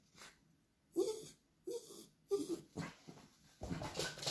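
A dog named Mojo whimpers and snuffles indoors in short wheezy bursts, four or five close breathy whines separated by brief pauses, fairly faint.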